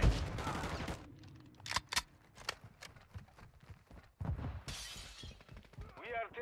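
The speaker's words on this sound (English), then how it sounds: "Taking fire." Gunfire in Call of Duty Modern Warfare 2, a string of sharp close shots and impacts with a heavy burst at the start and another midway, amid game noise.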